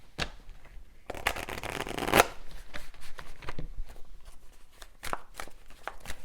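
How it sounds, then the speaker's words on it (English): A deck of tarot cards riffled and shuffled close up, a dense crisp flutter for about a second ending in a sharp snap, followed by lighter card taps and shuffles. "let me just get a final card here"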